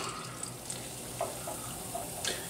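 About three cups of fish stock pour into a cooking pan for poached salmon with ginger and green tea, giving a continuous liquid splashing and trickling sound at close range.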